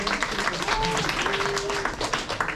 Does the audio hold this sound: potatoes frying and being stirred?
no